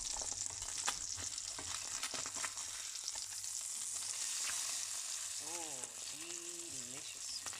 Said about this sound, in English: Next 2 trout on the pan. They've had 2 minutes, so I'm going to flip them over